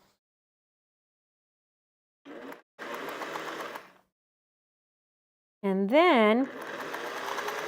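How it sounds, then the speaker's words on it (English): Sewing machine stitching quilt block units for a quilted pillow cover, heard in two short bursts of steady mechanical whirring, the second one under a spoken voice. "go over and sew them really quick"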